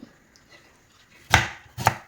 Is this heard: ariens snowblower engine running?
no